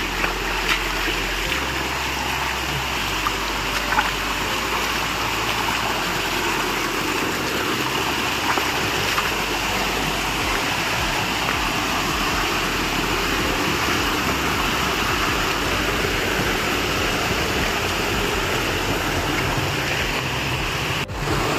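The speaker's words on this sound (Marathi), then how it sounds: "त्याला पण ट्राय करायचं आहे की हा धबधबा क्रॉस करून आपलं वर जायचं." Water from a waterfall climbed past on a hillside trail pours in a constant heavy rush, loud and near, with a low rumbling undertone and no one speaking.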